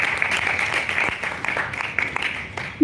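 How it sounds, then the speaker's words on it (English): Audience applause for a keynote speaker at an entrepreneurship course session, a steady, fairly distant patter of many hands clapping throughout. "Please give a round of applause."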